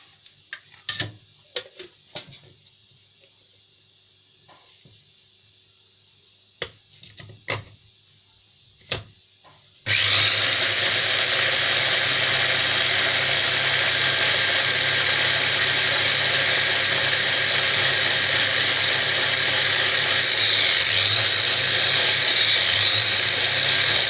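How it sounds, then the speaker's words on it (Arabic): Electric egg beater whisking four eggs with a spoonful of vinegar for a cake batter, starting after a few quiet clicks and taps with a sudden loud, steady whirring buzz that runs continuously to the end. "انتوا بمضرب البيض الكهرباء هتضربوا فيه كتير"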